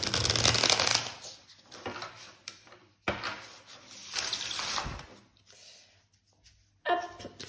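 Tarot cards shuffled and drawn at a reading, with several close, crisp bursts of riffling and sliding separated by short quiet pauses, and no talking.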